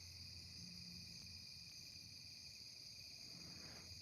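Crickets chirp steadily through a summer night outdoors, a constant high, even trilling that holds alone at a faint, distant level before a brief loud bump at the very end.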